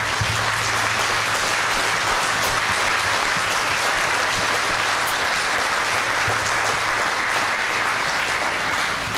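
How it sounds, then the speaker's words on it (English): A church congregation at a priests' ordination Mass applauds the newly ordained priest: sustained, loud clapping from a large crowd that fills the whole stretch, with a low steady hum beneath it. "let's clap for the new priest once again"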